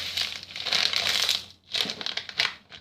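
A plastic bag is handled and crinkled up close in quick, crisp rustling bursts with a brief pause midway, no talking.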